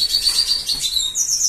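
Pet birds kept indoors chirp and tweet in quick, bright bursts, several close calls overlapping at moderate volume with no voices.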